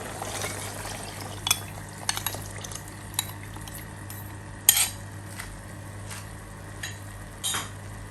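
A utensil stirs creamy beef with mushrooms in a pan, soft scraping and occasional clinks over a steady low cooking hum, no voices.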